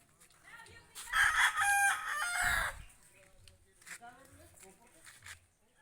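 A rooster crows loudly nearby in one long drawn-out call, followed by quieter clucking and scattered chicken sounds at a chicken-selling stall.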